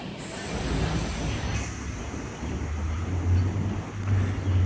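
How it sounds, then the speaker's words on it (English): A Sydney S-set electric train pulls out of a station platform with a loud, steady rumble of wheels on rails. Near the start a high squeal cuts off, and a deep motor hum swells as the train gathers speed. "S123 is now departing platform number 1 for a service to Clyde."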